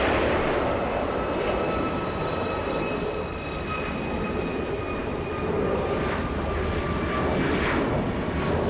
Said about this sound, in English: E175 coming into land, stealing the spotlight from the departure.